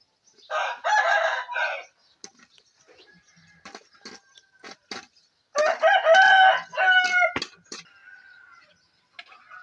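Two loud rooster crows a few seconds apart, with scattered clicks and faint bird chirps in the quiet stretch between them.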